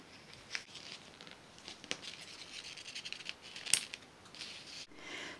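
Scissors snip through a paper wire bat wing frame in a series of short, crisp cuts with light crinkling and rustling, close and fairly quiet, with no talking.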